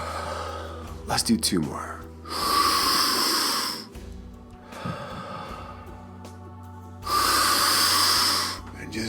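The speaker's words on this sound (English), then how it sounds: "Cue deep breath." Slow, deep breaths come close and clear during a guided meditation, each long inhale and exhale rising and falling in a calm rhythm. A voice speaks briefly between them.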